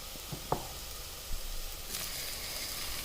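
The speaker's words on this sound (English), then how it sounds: "We let the masalas blend well together with the onion and fry further" Masalas and chopped onion frying in a pan for Indian chole, a soft steady sizzle with a few stirring knocks near the start and a brighter hiss rising toward the end, no voices.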